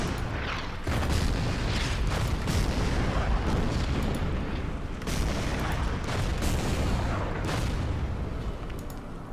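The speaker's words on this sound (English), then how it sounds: "the artillery is going to make short work" Artillery fire in the World War II strategy game Order of Battle: Panzerkrieg, several loud booming blasts landing in quick succession with rumbling tails, dense and continuous, with no talk.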